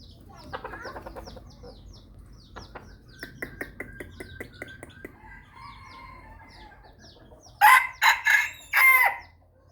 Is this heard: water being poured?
no